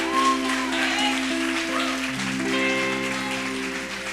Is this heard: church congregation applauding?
yes